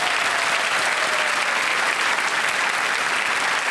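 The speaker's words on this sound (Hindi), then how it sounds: "तालियां बज जाए इनके लिए एक बार फिर से।" A studio audience on the KBC quiz show applauding, a dense, even roar of clapping held loud and steady throughout with no pause.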